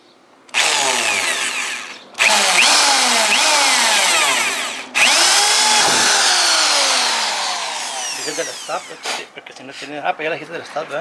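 A power drill bores a hole through the trunk lid of a Mazda Miata for mounting a large wing, with loud high-pitched whirring in long bursts that rise and fall in speed, then sputtering bits of drilling and a voice speaking near the end.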